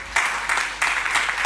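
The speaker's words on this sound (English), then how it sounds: "Yes, you can applaud" A studio audience claps at a news broadcast, a brief burst of applause that swells in uneven waves without any voices.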